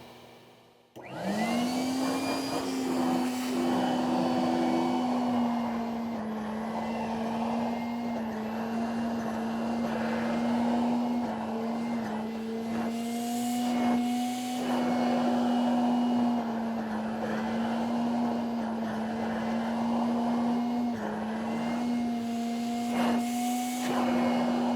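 A Vortex Hurricane fiber mulcher motor spins up and runs with a steady, loud whirring hum while fiber is fed into it, holding even throughout with slight pitch wobbles.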